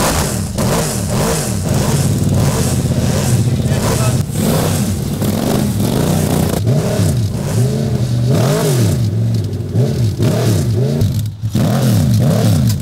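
A Morgan GT3 hillclimb race car's engine runs loud and close throughout, rising and falling in steady revving pulses with a brief dip near the end.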